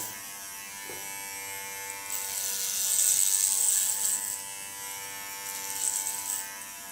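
Electric hair clipper fitted with a clipper comb cutting hair for a punk rock style, a steady close buzz that swells louder as the blades work through the hair, then eases.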